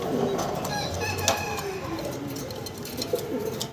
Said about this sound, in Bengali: সাদা এক জোড়া শৌকিং